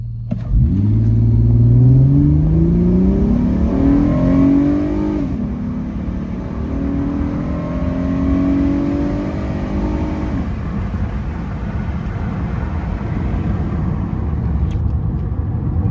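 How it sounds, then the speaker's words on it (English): A 2008 Acura MDX with the J37 V6 pulls away on a test drive, the engine rising in pitch through a hard acceleration, then settling into a steadier cruising drone with gear changes, loud and close from inside the car. "get this nice and warmed up, take it out for a drive"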